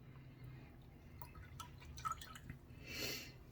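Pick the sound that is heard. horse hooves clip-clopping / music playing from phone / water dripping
water dripping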